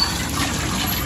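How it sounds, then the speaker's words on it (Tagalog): Water pours steadily into a pot of taro and crab stew cooked in coconut milk, a continuous close gushing splash lasting about a second with no talking. "Dagdagan, tubig. Dagdagan."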